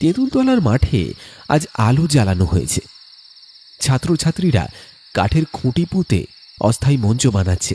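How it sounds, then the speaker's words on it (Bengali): Crickets chirp around a field at dusk, a steady shrill trill running beneath a person's spoken narration and filling the pauses between phrases. "মাঠের চারপাশে ঝিঝির ডাক"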